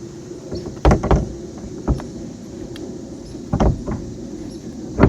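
Ford Bronco door being handled and fitted back on, with several sharp metallic knocks and clunks spread irregularly among quieter scraping and shuffling, fairly close.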